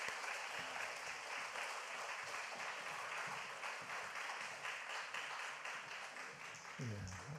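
A church congregation applauds to welcome the pastor at a Friday praise and prayer service, with sustained, dense clapping from many hands filling the room for several seconds before a voice starts at the end.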